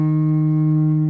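A bowed guitar viol played dry, with no reverb, holds one steady, close, harmonically rich sustained note for a short moment, unaccompanied.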